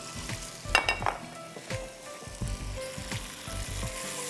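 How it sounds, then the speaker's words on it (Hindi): Spaghetti dropped into hot olive oil in a pan gives a steady frying sizzle with stirring scrapes and clinks throughout, close and fairly quiet, with no talking. "पहले थोड़ा पास्ता जाएगा अंदर, फिर हम और डालेंगे"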